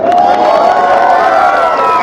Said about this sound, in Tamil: பூபேஷ் குமாருக்கு ஒரு பெரிய கைத்தட்டல் கொடுக்கலாம்